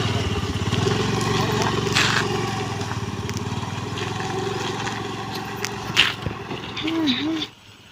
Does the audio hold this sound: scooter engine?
yes